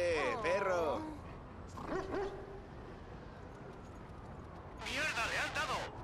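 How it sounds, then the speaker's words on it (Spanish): Dog barking in the video game Watch Dogs 2, two short bursts of several yapping barks, the first at the start and the second near the end, with a quieter bark-like sound between them and a faint game background throughout. "Perro."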